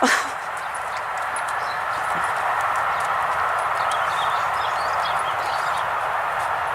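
A horse being led out during a horse-and-rider coaching session clip-clops with soft, repeated hoof steps over a steady background hiss, moderately close.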